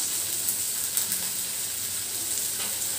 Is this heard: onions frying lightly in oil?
yes